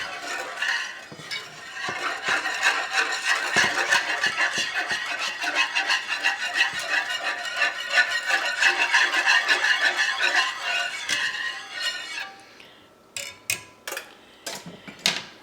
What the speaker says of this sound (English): I'm going to actually grab a whisk and whisk it.